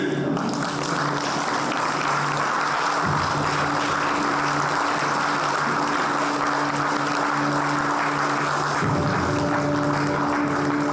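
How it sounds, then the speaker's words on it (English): A conference audience at a men's business leadership event applauds to welcome a speaker, a dense, loud wash of clapping that holds steady throughout. "Gentlemen, with the best round of applause possible"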